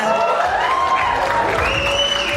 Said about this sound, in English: I'd like to welcome on stage with a huge round of applause the executive producers of the docu-series